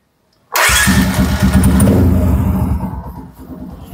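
A Rouser LS135 motorcycle engine starts abruptly and settles into a loud, steady idle close by, fading slightly at the end.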